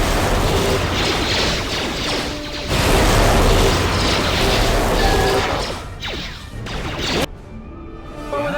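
Explosions in Star Wars: Knights of the Old Republic II – The Sith Lords: loud booming crashes and mechanical rumbling in dense waves, breaking into several sharp hits before dropping to quiet near the end.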